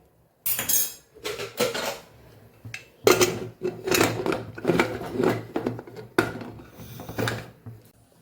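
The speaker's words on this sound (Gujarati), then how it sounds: "હવે આપણે કુકર બંધ કરીને 3 સીટી લઈ લેશું।" Someone shuts the lid of a pressure cooker holding pea and potato curry, with a run of close metallic clanks, scrapes and knocks in uneven bursts.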